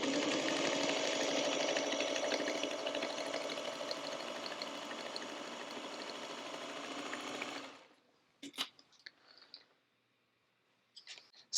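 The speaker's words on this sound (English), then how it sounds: "take it over to our sewing machine" A sewing machine stitching a fabric pencil pouch runs steadily at close range for about eight seconds, a dense mechanical whir, then stops, leaving a few faint clicks and handling noises.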